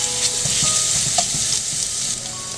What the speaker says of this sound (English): Once the oil is hot, add cumin seeds, ginger garlic paste,